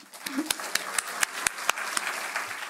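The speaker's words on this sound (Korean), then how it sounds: "뜨거운 우리 박수로 할렐루야 한번 환영하겠습니다" Scattered hand claps from a church congregation at a Wednesday worship service, sharp and uneven, rising into a loose round of applause to welcome a guest speaker.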